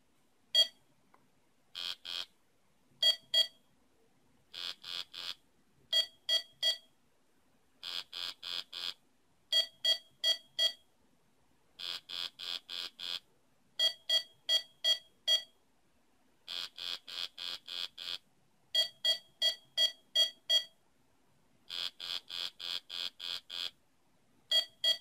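A VEX-IQ robot built as a Simon memory game plays its winning tune: loud electronic beeps in quick bursts of three to six, repeating in a steady pattern for about 25 seconds with no talking.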